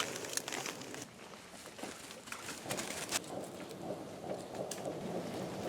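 Soaked wood catches and burns in wet, rainy conditions, giving a steady close hiss broken by scattered sharp crackles and pops throughout, with no voices.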